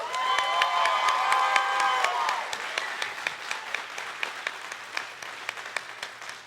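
A debate audience claps and cheers loudly, a dense wave of applause with whoops that thins into scattered, individual hand claps toward the end.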